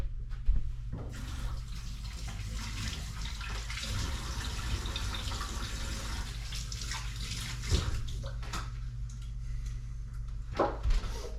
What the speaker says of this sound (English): I'm just gonna go wash my hands for you guys.